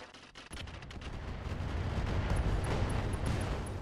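Weapon fire in the video game RogueTech, a BattleTech mech game: a sharp shot followed by a dense, rising rumble of continuous impacts and blasts, moderately loud with no voices.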